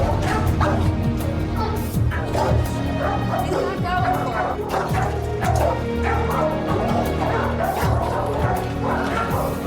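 An 80-pound dog barking, yipping and whimpering continuously and loudly during a rescue with catch poles, with people talking and clatter mixed in.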